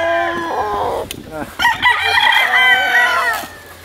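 A rooster crows loudly nearby, overlapping another crow, with chickens clucking in the background.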